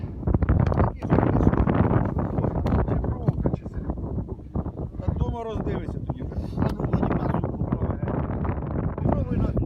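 Gusty wind buffets the microphone on the bank of the Dnipro river, a steady rumbling roar throughout while people talk nearby.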